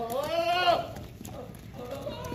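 A goat bleats once in a long, wavering cry near the start, followed by fainter animal sounds and background noise at a livestock shipping yard, with no voices.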